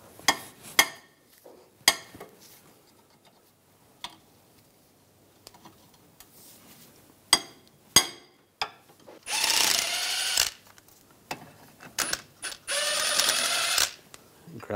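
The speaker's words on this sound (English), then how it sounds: "Using a 16mm socket, take these two caliper bracket bolts out." A ratchet with a 16mm socket works the caliper bracket bolts loose on the front brakes of a 2001-2006 BMW 325Xi, giving sharp clicks and short bursts of close, loud ratcheting, alone with no talk.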